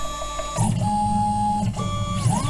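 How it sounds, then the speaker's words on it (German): A LinuxCNC machine moves to probe points for surface auto leveling, its stepper motors whining in steady pitched tones that rise and fall as the axes start, travel and stop, close and continuous. "Also die Maschine fährt jetzt jeden Punkt an, hält dann an, wenn der Taster kommt"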